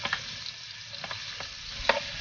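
Onions sizzle faintly in a pan over a wood fire, with a soft steady fry and a few clinking stirs against the pan, no talking.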